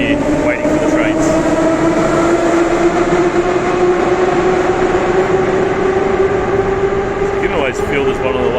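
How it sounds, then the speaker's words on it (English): Loud subway trains rumble and roll through a windy, breezy underground station, a steady roar with sustained rail tones and brief squeals, while a voice talks faintly beneath. "Very loud trains"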